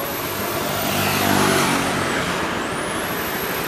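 A Honda Beat FI scooter engine revs hard on the throttle, a loud continuous roar rising and falling in pitch, alone and close up.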